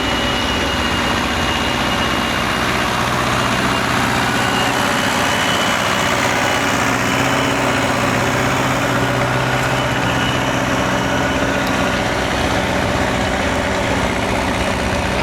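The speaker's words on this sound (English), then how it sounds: "Nice Ford 7000." A Ford 7000 tractor working a plowing demonstration at an outdoor farm show, its engine a loud, steady, continuous rumble with no pauses.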